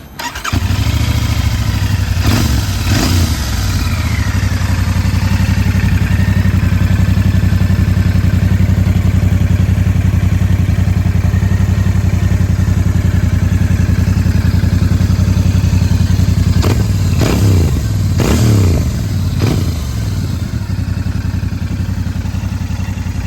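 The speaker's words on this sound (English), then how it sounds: "Then I heard the engine." A Royal Enfield Bear 650 motorcycle engine running close by, a loud, steady low rumble throughout, with a few brief revving surges and mechanical clatter near the start and again toward the end.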